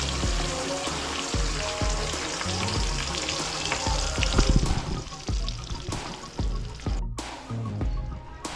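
Frozen hot dogs frying in a pan at a New Year celebration in Cavite, giving a steady sizzle with crackles and clattering bumps of the pan or utensils all the way through.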